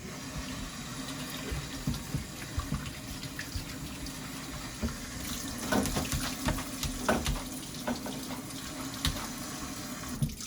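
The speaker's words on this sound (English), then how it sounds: "we're gonna rinse these out because I don't want no water, no juice on it" Canned kidney beans are rinsed under a running kitchen tap, a steady close hiss of flowing water with scattered clinks and splashes from the beans and container.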